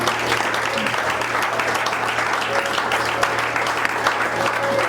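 A church congregation at an evangelical centre applauds to acclaim the Lord, a dense, steady wash of many hands clapping that fills the room for the whole stretch, loud and sustained with faint voices mixed in.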